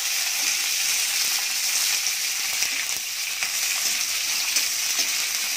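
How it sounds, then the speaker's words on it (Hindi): Capsicum sizzles steadily in hot oil with paneer in a kadai for a dhaba-style kadai paneer, a close, constant hiss with faint stirring scrapes throughout. "अब इसमें हम अपना शिमला मिर्च भी डाल के अच्छा से भून लेंगे।"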